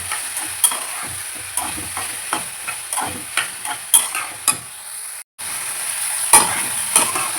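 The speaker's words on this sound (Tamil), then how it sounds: "கத்திரிக்காய் சூடில் நல்லா வதக்கணும்." Sliced eggplant (brinjal) sizzles steadily in a hot pan while a spoon stirs and scrapes it in repeated strokes, close and clear, with a brief cut near the end and no talking.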